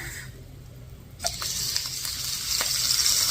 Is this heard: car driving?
no